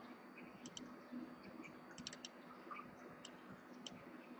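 Computer mouse clicks at a desk, a handful of short, sharp, faint ticks scattered irregularly over a steady low background hum, with no talking.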